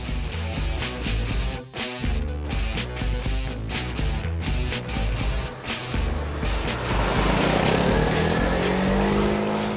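A 2013 Peugeot Satelis 300 scooter engine pulls away and accelerates, a loud close drone climbing in pitch with wind rush building toward the end.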